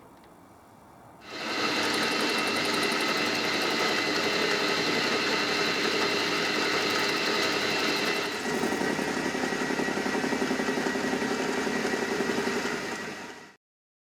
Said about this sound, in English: I'm now able to turn it on the lathe to clean it up